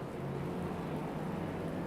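Steady rain from a wet-weather race at Kyalami in the Assetto Corsa Competizione racing game, a dense continuous hiss with a low rumble underneath, even and unbroken throughout.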